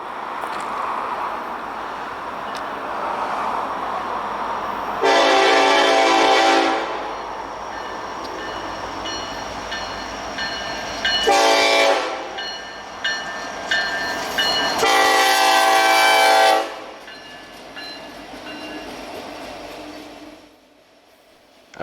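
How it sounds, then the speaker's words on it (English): Two EMD SD70ACe locomotives lead a loaded eastbound Norfolk Southern coal train, sounding loud, near horn blasts in three bursts, a long one, a short one, then another long one, over a steady rumble of passing cars. "two EMD SD-70 Aces pilot a loaded coal train east."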